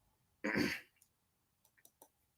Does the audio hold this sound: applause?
no